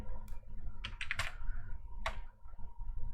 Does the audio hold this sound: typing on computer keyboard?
yes